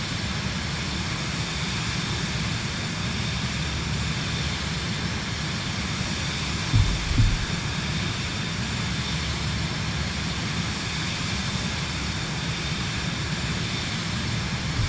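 A plane buzzing the tower in Microsoft Flight Simulator 2024, heard as a continuous engine drone at moderate loudness with a brief low thump midway, no talking over it.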